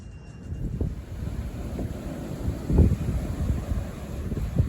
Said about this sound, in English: Really windy day in Pittsburgh